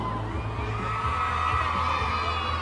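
A crowd of excited fans at a mall event for a celebrity pair cheers and shouts, a continuous roar of many voices with high screams and whoops blending into a steady, loud wash.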